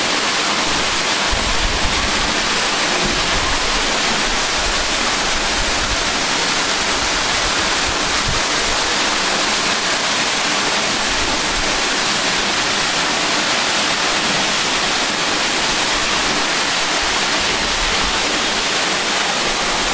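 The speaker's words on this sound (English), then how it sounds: "Under the waterfall or behind it." A waterfall pours over and seeps through limestone rock, a dense, steady roar of rushing water that is loud and close and continues unbroken throughout.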